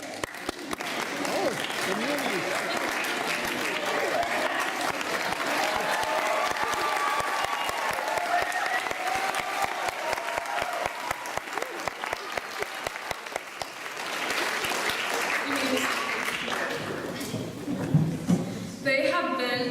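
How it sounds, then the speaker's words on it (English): An audience at an 8th grade graduation ceremony gives a long standing round of applause, with dense, continuous clapping for most of the stretch, crowd murmur and voices beneath it, then tapering into scattered claps and talk. "Please stand up and let's give them a round of applause too."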